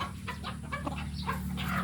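Chickens being bathed on a hot summer day give close, steady clucks and short calls over a constant low hum, with no talking.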